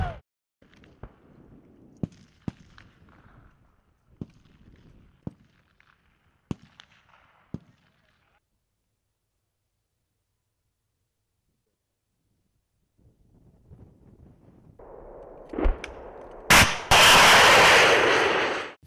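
Canadian M777 howitzers of a gun battery fire artillery in Baltic terrain. Sharp distant booms come at irregular intervals, then a long silence, then a sudden loud, roaring blast near the end.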